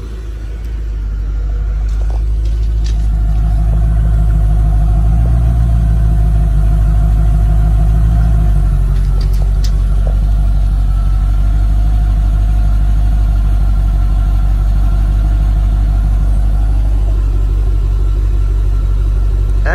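A 35th anniversary Chevrolet Corvette engine idles with a steady, deep rumble that holds loud and even throughout, with no one speaking.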